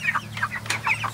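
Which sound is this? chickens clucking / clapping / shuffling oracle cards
chickens clucking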